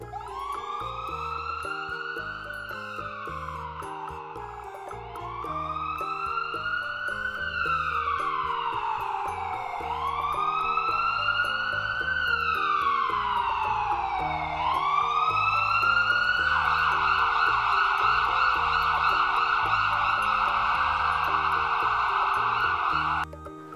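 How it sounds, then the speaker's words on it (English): An ambulance siren wails loudly, sweeping up and down in long repeated cycles, then shifts to a faster steady tone near the end, with a low rumble underneath. "ambulance."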